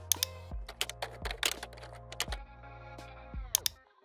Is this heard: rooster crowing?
no